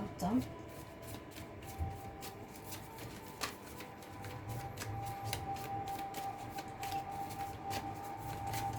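Tarot cards are shuffled and drawn, giving a rapid series of crisp, regular card flicks and riffles close by under a soft voice.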